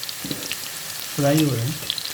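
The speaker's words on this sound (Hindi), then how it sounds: "आलू मैंने निकाल के इसको फ्राई कर रहा हूँ। ये आलू मेरे फ्राई हो रहे हैं" Potatoes fry in a pot with a soft steady sizzle, and a brief tonal voice-like sound rises over it near the middle.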